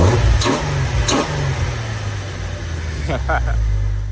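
A 2004 Jeep Wrangler LJ engine with a Rough Country cold air intake idles loudly and is revved in a few quick bursts, with a breathy intake whoosh rising on each rev.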